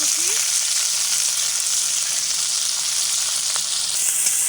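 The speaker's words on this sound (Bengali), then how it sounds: "দিয়ে দিলাম সয়াবিন তেল, দিয়ে দেবো কাঁচামরিচ, দিয়ে দেবো পেঁয়াজ কুচি" Green chilies and chopped onion fry in soybean oil, making a loud, close, continuous sizzle that stays dense and steady throughout with no talking.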